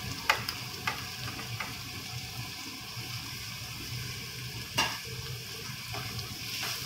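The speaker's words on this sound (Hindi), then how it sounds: "अब मैं इसमें बारीक कटे हुए प्याज ऐड कर दूंगी।" Finely chopped onions frying in a pan for kofta curry, giving a steady close sizzle with occasional soft clinks and scrapes of stirring.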